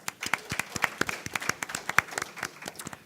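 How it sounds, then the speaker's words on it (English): Scattered clapping from a small audience at an agriculture and entertainment conference session in India, uneven and thin, with sharp individual claps coming in a loose, irregular stream. "In absentia, kindly give them a round of applause."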